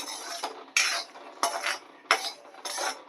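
Roasted cashews and almonds being scooped out of a pan with a metal spoon, giving five separate scraping clinks at a steady pace, close up, with no talk.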